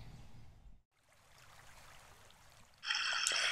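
A small third-order creek, the East Branch of White Clay Creek, flows and trickles softly with a faint babble, then a brighter, louder splashing rush of water comes in near the end.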